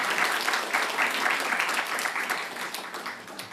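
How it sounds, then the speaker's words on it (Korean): A church congregation at a Sunday service claps to welcome a newly registered member, a full round of applause from many people that holds steady, then tapers slightly toward the end. "잠깐 일어나시면 환영의 박수, 감사의 박수를 드리겠습니다."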